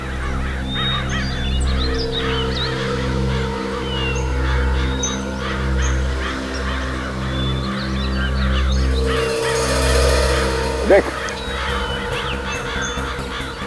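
A flock of crows caws repeatedly near water, with harsh calls overlapping above a constant low drone that runs throughout.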